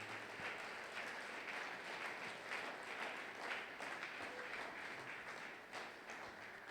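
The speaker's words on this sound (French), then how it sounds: "Acclame très fort." Sustained applause from a church congregation during a Sunday worship service of praise and thanksgiving, a steady dense wash of clapping from many hands that holds at an even level throughout with no voices over it.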